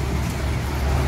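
A Damri bus from Java pulls into a bus station ticket area on a rough gravel and broken-asphalt lot in Sumatra, its engine and road rumble a steady, moderately loud drone in the open air.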